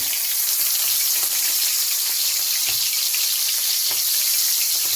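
Prawns frying one by one in hot oil over lowered heat for a Bengali chingri malai curry, heard as a steady, dense, hissing sizzle that stays loud and close throughout, with no voices.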